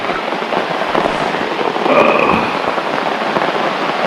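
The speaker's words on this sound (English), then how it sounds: "the predicted rain has begun" Steady rain falls at Little Pond Campground, a dense, continuous hiss and patter on surfaces that swells slightly midway, with no talking.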